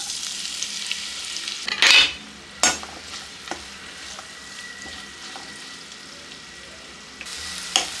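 Finely chopped onions stirred and frying in hot oil in a pan with cloves, cinnamon and cardamom, a steady close sizzle broken by a few louder scrape-and-stir bursts near the start and end, with no talking.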